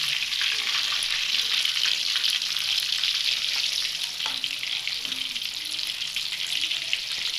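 Pieces of fish fry on very low heat in a pan for a Lahori-style fish fry, giving a dense, even hiss and crackle, close and unbroken, with no talking.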